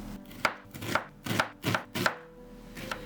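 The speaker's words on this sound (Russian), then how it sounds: "А сейчас нарезаем лук для поджарки. Нарезаем тоненько и на маленькие квадратики." A knife chops an onion into small squares against a cutting board in five or six crisp, evenly spaced strokes, close and clear with no talking.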